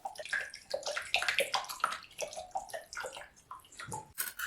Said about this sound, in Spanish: apreciar el flujo de agua y el mecanismo de trabajo